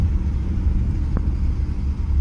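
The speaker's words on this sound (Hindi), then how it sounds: "गाड़ी में हूँ, बहुत तेज़ हवा अंदर आ रही है" Steady low rumble of a car on the move with wind buffeting through an open window, one brief thump midway, no voices, near Rampur Bushahr, Himachal Pradesh.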